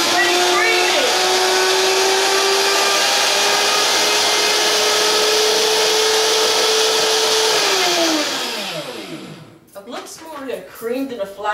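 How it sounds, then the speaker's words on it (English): Sesame seeds being ground to powder in a blender: a loud, steady motor whine with a rising and falling pitch that runs for about eight seconds before winding down, then quieter clatter and handling sounds. "we're going to actually blend this into a powder"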